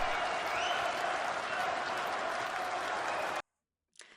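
Crowd at the Reform conference applauding in a steady, dense wash of clapping that holds for over three seconds, then cuts off abruptly, with a brief faint burst at the end.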